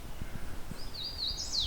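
A hooded warbler sings a short, bright, rising-and-falling phrase that is clear but not loud, over a low, quiet outdoor background.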